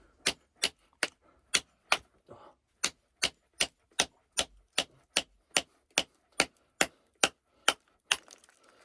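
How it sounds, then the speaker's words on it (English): A hammer strikes a chisel to chip rock away from an agate while rockhounding in Oatman, Arizona, about twenty sharp metallic clinks in a fairly even rhythm, close and clear. "So I'm trying to get at it without putting the chisel on the agate."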